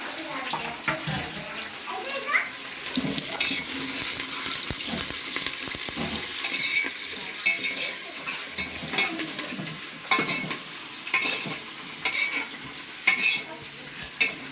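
Curry leaves and ginger pieces, with chopped green chillies, sizzle steadily in hot oil for a breakfast pulagam, a continuous crackling hiss with occasional stirring clinks and faint background voices.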